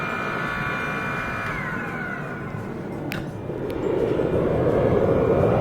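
An 8-ton hydraulic log splitter presses down on red-hot steel, giving a steady mechanical hum with a falling whine and a brief sharp knock, then a louder rushing hydraulic strain.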